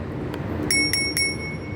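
Bell on a Dahon Metro 6-speed folding bicycle rings in several quick, bright dings close by, over a low background hum.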